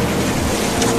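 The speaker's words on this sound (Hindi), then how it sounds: "अरे ये तो ज्यादा पानी भर गया गांव में है।" Floodwater rushes through a village: a loud, steady broadband roar of moving water runs throughout, with no voices.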